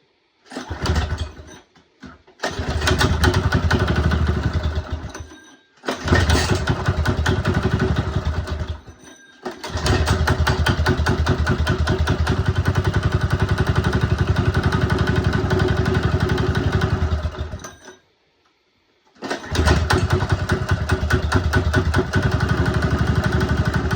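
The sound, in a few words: small engine running after carburetor rebuild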